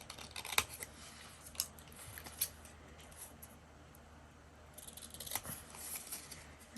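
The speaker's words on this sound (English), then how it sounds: "And so I'm going to cut out 2022 and January as well." Scissors snip through paper for a journal, faint and close, with a few crisp separate cuts followed by a steadier run of snipping in a quiet room.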